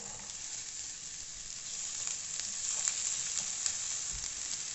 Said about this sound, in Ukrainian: На сковорідку наливаю соняшнику олійку і спочатку додаю цибульку